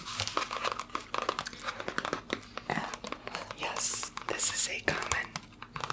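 Soft paper crinkling and handling of a notepad being picked up and written on, close and intimate in a binaural ASMR consultation roleplay, with whispering over the rustles and brief scratchy bursts.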